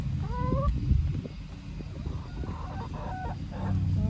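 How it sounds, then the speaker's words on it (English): Chickens cluck and peck busily close by as they eat oats, with a rooster's call rising above the low, steady scratching and feeding noise. "so I just mixed up some oats, and the chickens are going to town"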